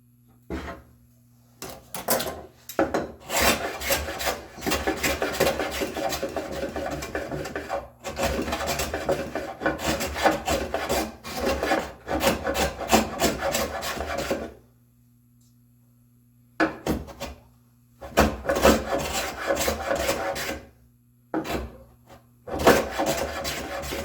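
Walnut end grain being hand planed in bursts of close, rasping strokes with short gaps between passes and a couple of longer pauses, no voices.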